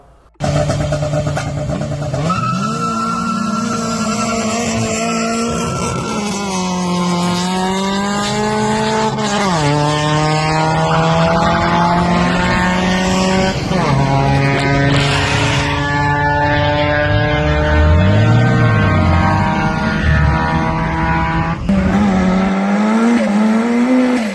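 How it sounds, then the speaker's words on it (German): A turbocharged Honda Civic EG8 making about 350 PS, fitted with an oversized GT30 turbocharger, revs loudly and continuously while driving on the road, its engine pitch climbing and dropping through repeated gear changes. "Der Turbolader ist viel zu groß für den Motor."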